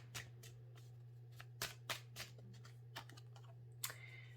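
Tarot cards being shuffled and drawn by hand, crisp close riffling and flicking taps in short bursts over a faint steady hum, with no voice over them.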